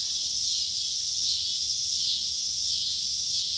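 Cicadas buzzing loudly outdoors on a homestead, a dense continuous high-pitched drone that swells and dips slightly, with no voices.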